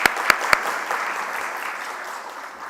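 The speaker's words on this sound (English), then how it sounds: "Let's give them another round of applause" Audience at a technical conference gives a panel a round of applause, opening with a few sharp close claps, then a steady crowd clapping that slowly fades.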